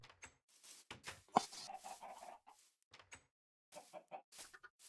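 Chickens in the Minecraft Bedrock video game cluck in short, bursty runs, fairly close and separated by brief silences, with a sharp knock-like blip near the start.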